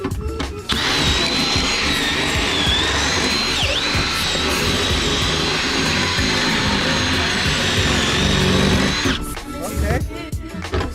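A power drill running steadily for about eight seconds to enlarge an undersized hole while a new shifter is installed, a loud continuous whine that starts and stops abruptly with clatter on either side.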